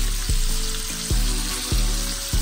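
Bacon sizzles steadily in a pan with butter, crackling loudly and close, with a few dull knocks of a utensil against the pan.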